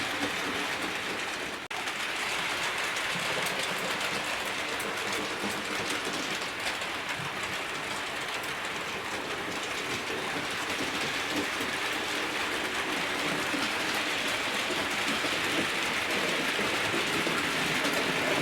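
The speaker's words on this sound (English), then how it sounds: "We've just seen the Pullman cars going through, and it's going to go on the wall loop." A Mallard model steam locomotive with TTS sound hauls Pullman passenger cars around a model railway loop, giving a continuous, fairly loud hiss and rolling rumble throughout, with no talking.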